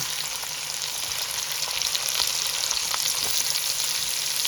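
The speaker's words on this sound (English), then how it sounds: "Now I'm gonna add right in this oil with all of that stuff. I'm gonna add my onion." Onion dropped into hot oil with other ingredients fries with a steady, dense sizzle and faint crackles, close and continuous, with no voices.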